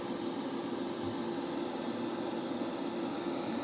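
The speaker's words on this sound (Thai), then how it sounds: "พัดลมก็ทำงานไม่ดังมากนะครับ" The cooling fan of a 3500W 24V hybrid solar inverter runs as a steady, fairly faint airy whir and hiss, even and unbroken, with no talking.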